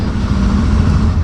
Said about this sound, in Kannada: BS6 sound. ಹಾಂ ಸೇಮ್ ಗಾಡಿ ಜಾವ 350.